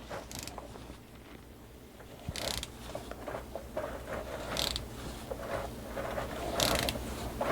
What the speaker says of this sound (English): So now I'm gonna torque the filter cap bolts.